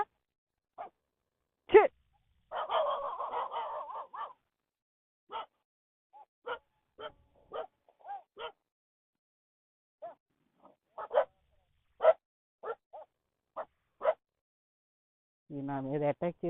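Dogs bark in short, scattered bursts on a hill top at night, some sharp single barks and a longer yelping run, fairly close, with a brief voice near the end.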